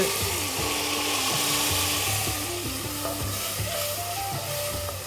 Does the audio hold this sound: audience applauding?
no